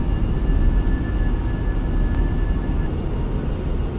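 An Airbus A320 climbing just after take-off, with a steady, loud broadband engine roar and airflow heard continuously from inside the aircraft and no talking.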